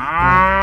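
Toy cow lets out a single loud, sustained electronic moo lasting under a second, clear and close with no talk over it.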